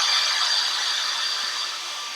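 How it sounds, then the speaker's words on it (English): A handheld hair dryer blows on freshly painted black craft paint, a steady close hiss of rushing air that fades slightly over a couple of seconds, with no talking. "to take my hair dryer to this."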